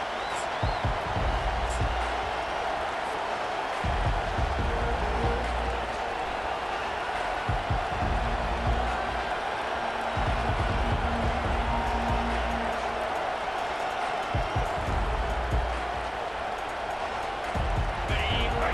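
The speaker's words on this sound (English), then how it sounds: "This crowd going to try to make life miserable for these guys." A stadium crowd roars steadily through an Auburn vs WVU college football game, a broad continuous wash of cheering that stays loud beneath a commentator talking throughout.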